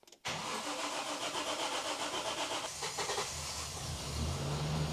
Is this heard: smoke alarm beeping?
no